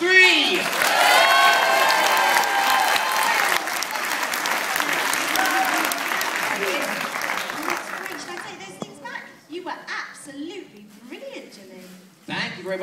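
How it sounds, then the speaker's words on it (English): An audience gives loud, sustained applause at a live show for a boy on a hovercraft; the clapping fills the first eight seconds, then fades into scattered voices and children's chatter. "Let's give him a nice big round of applause."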